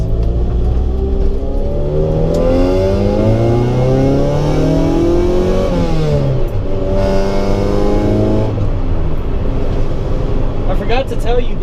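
A 1990 Honda Civic EF hatchback on aftermarket coilovers drives over a rough road, its engine droning loud and close, pitch climbing and falling through gear changes, with a voice talking over the cabin noise.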